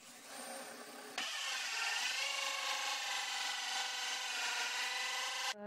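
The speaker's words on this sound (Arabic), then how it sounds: "غادي نثقب هنايا على حسب البريس. الاداه اللي غادي نثقب بها هي هذه، كتكون دائريه" A round hole-saw bit drills into wood, starting with a short scraping phase before a loud, steady whirring grind takes over and holds close and continuous to the end.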